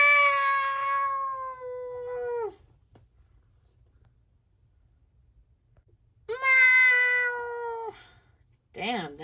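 A cat meows loudly in two long, drawn-out wails separated by several seconds of quiet, followed by a shorter third cry at the end; up close and alone.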